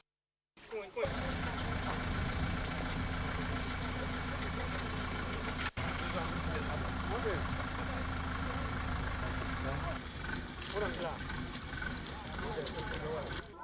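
A tractor engine starts with a brief burst and then idles steadily, a continuous mid-low rumble near a lake overgrown with aquatic plants, with a short click partway through and faint voices in the background.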